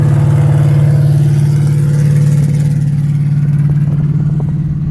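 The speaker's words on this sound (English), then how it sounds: "That's a pump engine." A steady pump engine drones at a low pitch during wheat harvest, running continuously and fairly loud, with faint clattering mixed into the hum.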